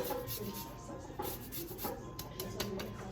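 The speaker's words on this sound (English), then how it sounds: "So I'm gonna use a little bit of lime zest." Soft, repeated rasping and scraping strokes of a lime being zested close up, a steady grating rhythm with faint background chatter.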